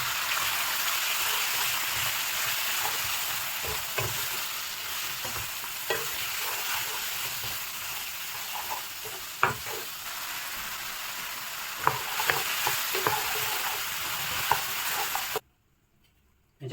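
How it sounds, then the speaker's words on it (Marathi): Marinated mutton cooking in a pot gives a continuous close sizzle and frying hiss, with intermittent stirring scrapes and clinks, then a sudden cut to silence near the end. "मॅरिनेट केलेलं मटन बॉईल करून घेऊ"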